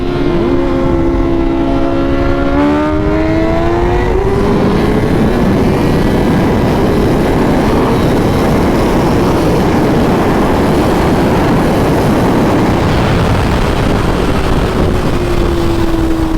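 Sport motorcycles, an MV Agusta F4 and a 2021 Honda CBR1000RR-R Fireblade SP, ride at speed, their loud engines rising in pitch over the first few seconds and then settling into a steady roar under heavy wind rush, with no talk.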